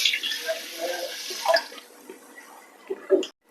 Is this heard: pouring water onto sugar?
yes